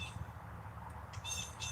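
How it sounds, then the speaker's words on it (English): Harsh, squawking blue jay calls sound a few times from a moderate distance over a low background rumble. "So you can hear the Blue Jays right now."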